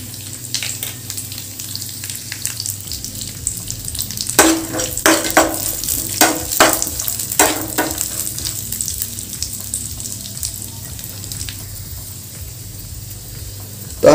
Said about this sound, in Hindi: पहले हम काजू को फ्राई करके लेंगे। काजू के साथ में ही हम बादाम को भी फ्राई करके लेंगे।